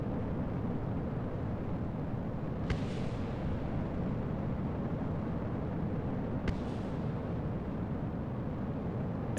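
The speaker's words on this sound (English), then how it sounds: "I think that was the sound of the boosters hitting the ground down there." Rocket boosters from an RP-1 kOS video game launch crash into the ground far below, heard as two sharp distant impacts about four seconds apart over a steady broadband roar of engine rumble.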